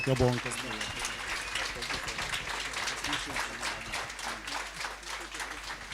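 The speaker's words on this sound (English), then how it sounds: "a big round of applause for our Mbawula Chat guests" A workshop and expo audience gives a round of applause for chat guests, steady crowd clapping lasting the whole stretch at moderate level, with talk and music mixed underneath.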